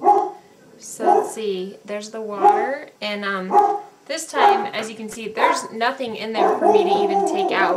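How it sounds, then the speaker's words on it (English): A dog barks in the background during an indoor multivitamin dissolving demonstration, the barks partly buried under a person talking steadily throughout. "Sorry about the dog barking in the background."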